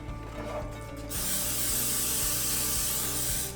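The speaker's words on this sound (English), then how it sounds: "We're going to use a cooking spray, canola oil cooking spray, and we're just going to lightly spray the pan." Canola oil cooking spray on a baking pan: after a second of quiet room tone, a loud, steady aerosol hiss starts and runs unbroken to the end, close and with no talking.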